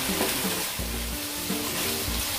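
Chicken tocino frying in its own rendered oil, a dense, steady sizzle with rhythmic scraping as it is stirred in the pan, close and continuous without talk.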